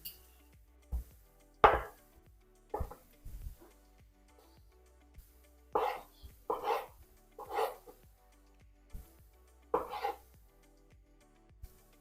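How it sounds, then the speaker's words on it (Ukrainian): Irregular knife chops on a cutting board as peeled cucumbers are finely chopped, sharp taps scattered with pauses, fairly quiet and close. "Огірочки зараз я почищу і дрібненько наріжу."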